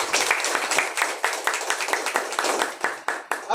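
Audience applause at an indoor event honoring a guest, dense overlapping hand claps with sharp irregular transients, fairly loud and close, filling the whole stretch with some crowd noise underneath.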